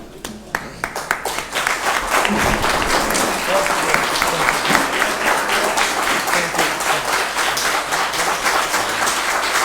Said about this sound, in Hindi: अगर हम एक दफ़ा खड़े होकर तालीम जा सकें, स्टैंडिंग ओवेशन।